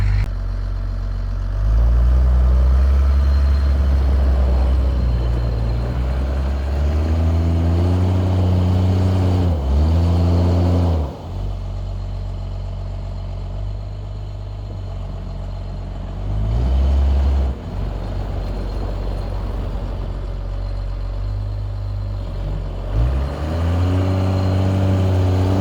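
A Cummins-powered truck starts after months sitting in 40-below cold, then idles and revs loud and close as it pulls out through deep snow, the engine note rising and dipping in several surges.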